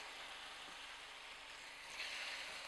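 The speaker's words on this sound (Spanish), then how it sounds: "Lo que queremos es sellar nuestras pechugas" Chicken breasts searing in melted butter in a hot pan, a faint, steady sizzle that brightens briefly near the end.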